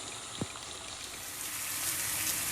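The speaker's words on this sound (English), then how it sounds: "Drain the hot water and replace it with cold water" Continuous rushing, splashing hot water pouring out steadily as it is drained from a pot after boiling, growing slightly louder toward the end, with no voices.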